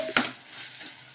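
Tamarind, coriander and garlic cloves being stirred in a frying pan: one sharp scrape of a spoon against the pan, then a soft, steady sizzle that fades slightly, close and without speech.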